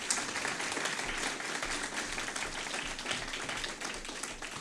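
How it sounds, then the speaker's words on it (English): Audience at a mayoral and council candidate forum breaks into steady applause, a dense even patter of hand claps held at a constant level throughout with no talking over it. "yes, you may applause."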